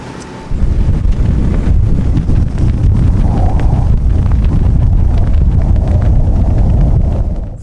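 Strong 25 to 28 knot wind roars steadily across a microphone on a sailboat in the Bay of Islands, loud and continuous from the first half second on, with gusty buffeting and a faint wash of water beneath.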